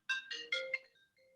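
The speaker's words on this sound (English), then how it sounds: "I'm sorry, my phone is ringing" A mobile phone rings with a short melodic ringtone, a few bright notes in quick succession, fairly faint in a quiet meeting room.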